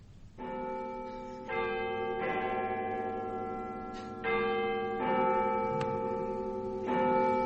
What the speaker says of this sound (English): Big Ben was singing the blues today. Or rather, one of the notes was failing to chime when it rang out over Westminster.